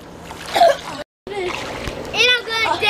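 A child splashes while dancing in water, with brief watery slaps and splatters mixed in with someone talking and other voices, cut by a short silent gap.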